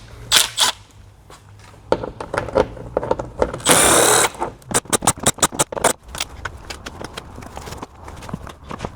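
A bottom cover comes off a Tesla large drive unit during a rebuild, with a burst of a power screwdriver, then a quick run of sharp clicks, rattles and taps from clips and screws, close by and without speech.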